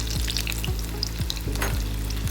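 Prawn pakoras deep-frying in hot oil give a loud, steady, close sizzle with fine crackling, broken by soft, evenly spaced low thumps throughout.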